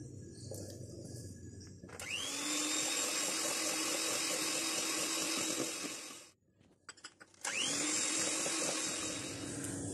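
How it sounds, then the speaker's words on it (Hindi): Electric beater whipping butter with caster sugar in a bowl: a steady high motor whine that runs for several seconds, cuts out briefly with a few rattles, then starts again at full speed. "अब मक्खन को बीट करते हैं। कैस्टर शुगर इसमें थोड़ी थोड़ी हम डालते जाएंगे और साथ साथ बीट करते जाएंगे।"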